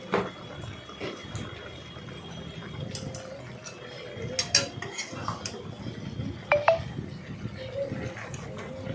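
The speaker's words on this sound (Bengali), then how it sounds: "দেওয়ার পর সেগুলোকে এদিক ওদিক নাড়াচাড়া করলাম ভালো করে" Vegetables and sugar are stirred in a cooking pan for a mixed vegetable curry with hilsa fish head, a run of scraping and clinking utensil strokes against metal, close, with light sizzling underneath.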